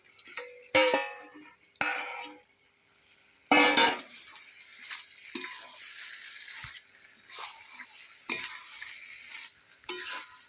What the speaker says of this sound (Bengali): এই পেঁয়াজের সাথে বেশ কিছুক্ষণ কষিয়ে নেব।